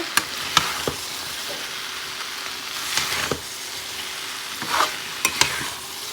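Fried potatoes and soybean chunks are stirred into sizzling spices in a pan with fish, a steady frying hiss punctuated by several clear spatula scrapes and knocks against the pan.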